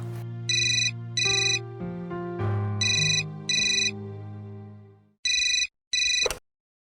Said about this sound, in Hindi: ममता, तुम्हारे लिए सिद्ध का फोन है